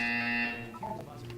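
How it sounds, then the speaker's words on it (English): Buzzer in the video game Portal 2, a loud sustained electronic buzz that holds for about half a second and then fades under a synthetic voice. "When you hear the buzzer, look down at the floor."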